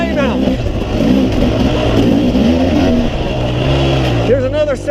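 A KTM 300 XC-W two-stroke dirt bike engine runs steadily and loud on a trail, its revs rising and falling throughout, with a sharp rev at the end.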